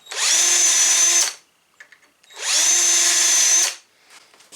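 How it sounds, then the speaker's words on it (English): Two short, high-pitched whirring bursts of a power drill pre-drilling screw holes for door hinges, each about a second long, separated by a pause with light handling clicks. "pre-drill your screws"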